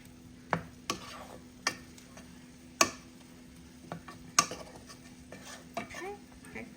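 Pancit noodles with onions being stirred in a pan, a utensil knocking and scraping the pan in sharp separate strikes over a soft background sizzle.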